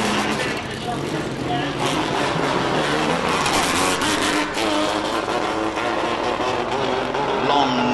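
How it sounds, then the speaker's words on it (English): A Shelby Nissan Can-Am race car runs up the Simola Hillclimb course, its engine a sustained loud drone with shifting pitch, heard beneath continuous commentary from a man. "This is Michael Verrier in the Shelby Nissan Can-Am."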